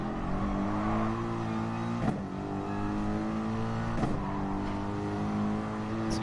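A race car engine in Gran Turismo Sport drones steadily at high revs, close and loud throughout, with brief shifts in pitch around gear changes and no voices.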